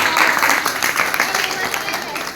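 An audience at a religious camp gathering in Alegaon claps steadily together, a dense, close round of applause that holds level before easing slightly toward the end.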